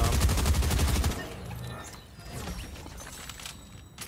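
Rapid gunfire in a battle-royale video game, a fast rifle burst for about a second and then scattered fainter shots and clicks in the background.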